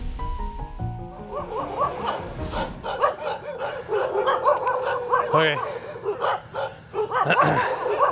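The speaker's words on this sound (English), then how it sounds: "I'm too scared to go this way. There's too many dogs." Several dogs bark and yip near and far in a steady run of overlapping yaps, with a person speaking briefly over the barking.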